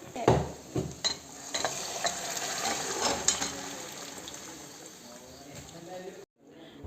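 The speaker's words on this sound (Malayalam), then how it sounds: "ഇനി നമുക്കിതിലേക്ക് ഈ വേവിച്ച് വെച്ചിരിക്കുന്ന ചിക്കൻ ഇട്ട് കൊടുക്കാം" Pre-cooked chicken pieces are tipped into a pot of stew masala and stirred, giving scraping, clattering spoon-and-pot sounds with faint sizzling, close and moderately loud, ending in a brief silence.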